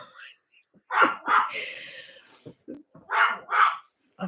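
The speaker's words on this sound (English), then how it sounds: "I'm not sure why he's barking so much" A dog barks in two quick pairs, close and loud, with brief pauses and small sounds between them.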